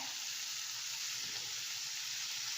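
Cut paneer going into sizzling masala in a pan for paneer masala dosa, a steady hissing fry that stays fairly quiet and close, with no voices.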